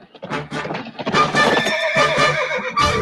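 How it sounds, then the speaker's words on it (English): A horse whinnies loudly in a cartoon riverboat scene, the neigh carrying over a steady clip-clop of hooves that continues through the short stretch. "That horse can walk on water."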